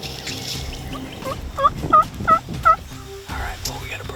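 A wild turkey gobbles outdoors in Iowa, a rapid series of four or five loud, warbling gobble notes in a quick burst, fairly close, set against quiet open-air background.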